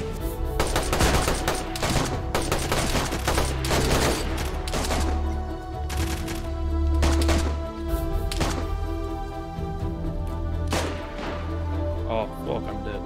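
Dense gunfire in the survival game DayZ: loud rapid bursts and single shots crowd together, close and continuous, with a player's voice shouting over them.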